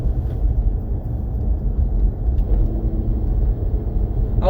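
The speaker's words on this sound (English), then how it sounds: "today I am driving, I'm doing a manual transmission type of car" Manual-transmission car heard from inside while driving, a steady low engine rumble and road drone throughout, fairly loud and close.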